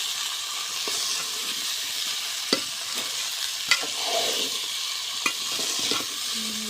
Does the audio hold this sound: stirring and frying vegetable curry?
yes